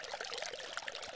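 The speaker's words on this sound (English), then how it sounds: "you'll get that from dripping lots of little water through moss or from a number of rock locations in a waterfall" Water trickles and splashes over rocks and moss in a garden pond waterfall, a close, continuous bright babbling with small irregular drips and no voices.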